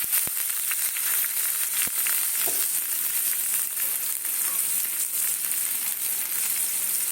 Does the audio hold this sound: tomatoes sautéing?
yes